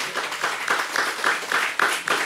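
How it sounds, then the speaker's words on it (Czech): Studio audience clapping steadily through the stretch, a dense continuous patter of many hands with slight swells, moderately loud and with no speech over it. "vy jste chtěli zatleskat, však to udělejte"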